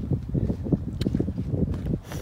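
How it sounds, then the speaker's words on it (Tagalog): Gusty wind buffets the microphone outdoors on farmland in uneven bursts, loud and close, with rustling noise and no speech. "Mahangin kunti."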